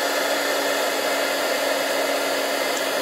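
A heat tool blows steadily while heat-setting embossing powder on a stamped card, a constant close, loud fan-and-air roar with no pauses.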